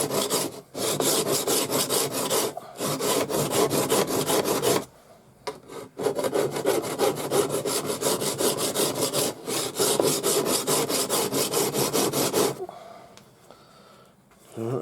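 A sword edge being sharpened by hand with abrasive grit, producing loud, close, continuous rasping strokes in long runs with brief pauses between passes.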